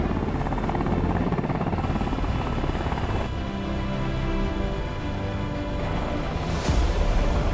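A Sikorsky Black Hawk helicopter, flown as an optionally piloted aircraft with supervised autonomy, lifts off on its own: a loud, steady rotor and turbine roar close by throughout, swelling slightly near the end.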